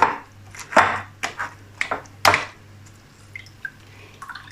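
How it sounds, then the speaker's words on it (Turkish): A knife chops watermelon on a board with a few sharp chops at uneven intervals, with faint clinks and quiet rustling between them. "karpuzumuzu doğrayacağız"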